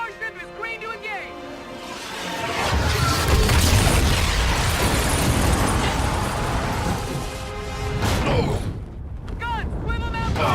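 Warship weapons fire in Call of Duty Infinite Warfare, a loud rumbling barrage of booms and blasts that builds and holds, with shouted voices and music layered over the battle noise.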